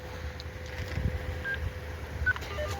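Mobile phone keypad tones sound as a number is dialed, a few short separate beeps over a low background rumble.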